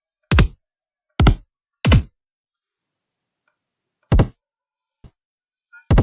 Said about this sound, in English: It's a nice little kick there.